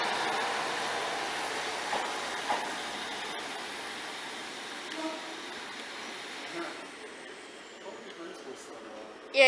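A Great Western Railway train departs Liskeard for Looe, its steady rolling rumble and hiss fading gradually, with faint wheel squeals and a clunk near the end.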